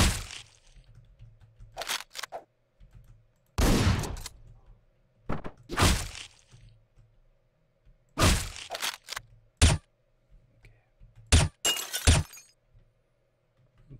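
Gunshots in the top-down shooter Hotline Miami 2: Wrong Number, several short loud bursts spread irregularly through the stretch, with quiet background hum between them.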